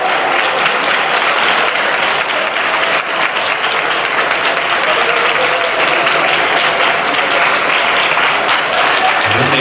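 A worship congregation claps loudly and steadily, a dense, continuous wash of hands filling the whole stretch with no pauses.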